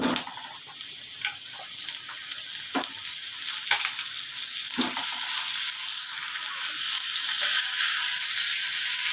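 Bottle gourd pieces go into a hot pan with mustard, setting off a loud, dense sizzle up close, broken by a few soft clicks and scrapes of stirring, with no voices.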